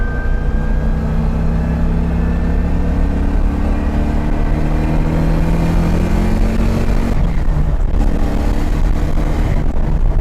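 A Subaru BRZ swapped with a 1UZ V8 roars loud and close, its engine note sweeping and holding steady through sustained revs, with a brief dip as the throttle lifts before climbing again.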